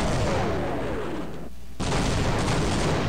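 Airstrike explosion in Half-Life, heard as a loud blast with rumbling debris, a brief drop to near silence, then another heavy burst of booming noise.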